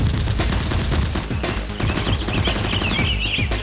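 Rapid, loud bursts of toy blaster fire from Nerf guns during a mock battle rattle on continuously, with faint chirping sounds above the volley.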